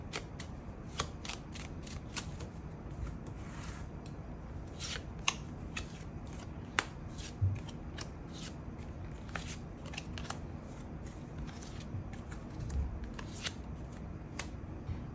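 Tarot cards shuffled and drawn by hand, soft papery flicks and riffles in quick irregular bursts, quiet and close against a steady low background hum, with no talking.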